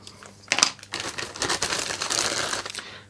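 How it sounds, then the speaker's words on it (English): A plastic bag holding a model kit's loose plastic parts is handled up close, giving busy crinkling and rustling with a sharper crackle near the start, continuous for about three seconds. "Then we have one bag with basically a ton of parts in it."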